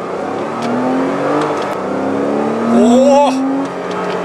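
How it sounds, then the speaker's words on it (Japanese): A Porsche Cayman with a PDK gearbox drones steadily from inside the cabin, then its engine blips sharply during a downshift into a curve and settles back. A passenger gives a short exclamation over it. "今カーブでシフトダウンします。"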